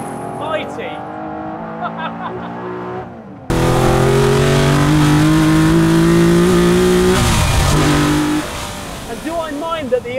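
Aston Martin car on a race track, engine revving hard and accelerating through gears with a loud sustained roar, then dropping off as it turns in, with someone talking over the start and end.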